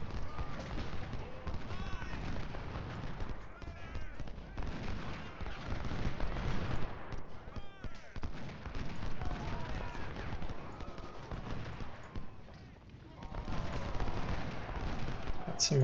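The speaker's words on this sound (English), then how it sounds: "I have no problem with our artillery shooting at their artillery." Artillery fire in the Civil War strategy game Ultimate General: Civil War at the Battle of Bull Run, with repeated booms and crackling gunfire layered over a steady, busy battlefield din throughout.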